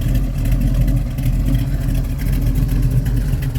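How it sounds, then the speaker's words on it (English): A 1979 Camaro Z28 with a small-block V8 and a big cam revs nearby, giving a loud, lumpy, pulsing low rumble that holds steady throughout. "The old small block, big cam song."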